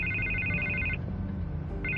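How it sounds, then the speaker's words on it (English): A telephone rings in a Batman video game, two bright electronic trills separated by a short pause over a low background hum. "I can't get the phone to stop ringing."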